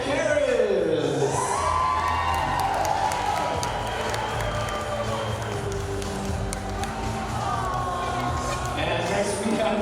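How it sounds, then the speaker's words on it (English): Wedding reception guests applaud and cheer during party introductions, with whoops and excited shouts rising over steady clapping at the start, then a continuous crowd roar that slowly settles. "If you would, let's give a big round of applause"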